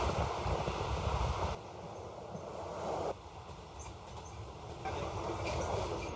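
Steady low rumbling inside a moving night train carriage to Bangkok, broad and continuous, shifting slightly in tone every couple of seconds, with no voices.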